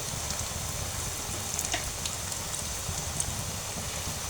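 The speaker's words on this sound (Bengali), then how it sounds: "এই তো প্রথম ব্যাচটা ভেজে নেব, তারপর সেকেন্ড ব্যাচটা ভাজবো।" Beef and potato shami kababs frying in oil, a steady soft crackle like light rain running throughout with a few brief brighter pops, close and alone with no talking.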